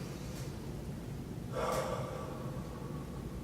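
One faint, slow inhale through the nose, with a breathy rise of air partway through, set against a quiet, steady room hiss and no talking.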